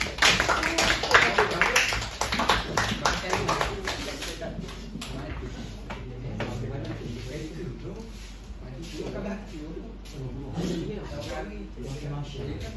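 A classroom of pupils claps in a quick, uneven burst up close that fades after a few seconds, followed by children's and a teacher's voices talking and moving about.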